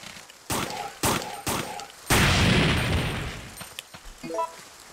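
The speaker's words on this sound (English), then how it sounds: "burning through handgun ammo a little bit here" Three sharp handgun shots ring out in quick succession in Resident Evil 3's zombie-filled graveyard, followed by a longer burst of blasting noise and a few fainter pops, loud and close with no talk.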